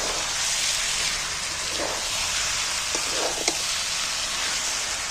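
Ginger-garlic paste and coriander powder hiss in a pan as a steady, rain-like sizzle, close and even. A few soft stirring knocks rise briefly above it and nobody speaks.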